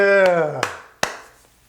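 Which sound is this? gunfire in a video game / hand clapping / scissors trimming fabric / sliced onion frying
hand clapping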